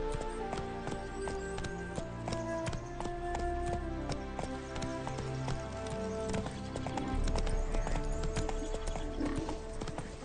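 Hooves of Roach, the horse in The Witcher 3, galloping in a fast rhythmic clip-clop with game music and ambience underneath, steady and close throughout.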